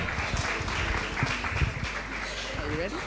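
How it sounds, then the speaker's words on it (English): Applause from a conference audience fills the room, a steady dense patter of clapping with some voices mixed in. "Please, again, a round of applause for her."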